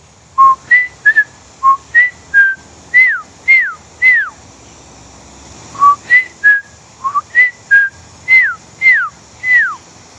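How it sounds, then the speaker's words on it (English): A person whistles to call an animal, a series of short rising and falling notes in two bursts, clear and fairly close, with a pause between the phrases. "I talk to him by whistling."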